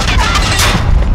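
Heavy gunfire and booming impacts in a Call of Duty Warzone match pound continuously and loudly, with dense overlapping bursts and no clear pauses.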